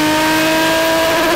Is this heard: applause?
no